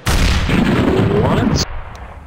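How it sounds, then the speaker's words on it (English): A flashbang grenade going off in CS:GO, a loud, close, roaring burst that fills the first second and a half and then cuts sharply to a faint ringing tail. "Throwing flashbang"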